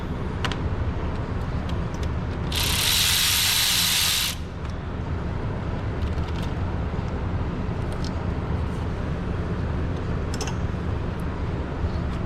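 A ratchet works a cylinder head bolt loose on a 5.7 HEMI engine, a fast clicking and mechanical rattle close by, with a brief bright burst of hiss partway through.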